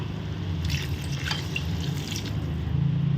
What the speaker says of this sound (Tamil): தேங்காய் பால் வந்து இதில் ஊற்றுவோம்